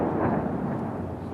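Artillery shelling on the outskirts of Kharkiv, Ukraine, a dense continuous low rumble of distant explosions blending into one heavy roar, loud and steady with no voices.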